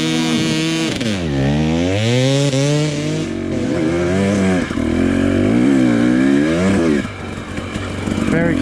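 A Husqvarna TE250 motorcycle is ridden nearby, its loud engine revving up and down through repeated rising and falling sweeps as the rider accelerates and eases off, with a brief burst of talk.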